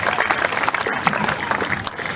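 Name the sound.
audience applause at a fair alligator show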